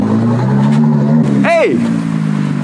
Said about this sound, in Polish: To jest moment, w którym odpalam auto i uciekam od właściciela